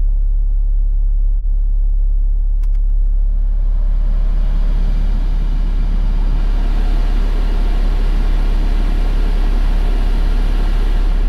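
A BMW engine idles with a constant low hum while its air conditioning blower builds to a broad whoosh after the first few seconds, continuous and close.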